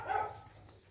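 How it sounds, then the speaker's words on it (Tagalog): A dog barks once, close by and moderately loud, at an outdoor hunting site where monitor lizards are sought, followed by quieter ambient noise. "Yun, may aso pa."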